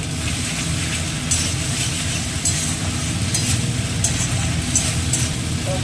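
Spices are stir-fried in a pan for a Bengali pomfret kaliya fish curry, giving a steady sizzle under a low rumbling background. Periodic scraping strokes come from a spatula working the masala.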